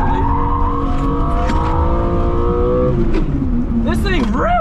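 A BMW engine revving up loudly through rising pitches, with a gear change and tire noise at the end, a voice shouting over it.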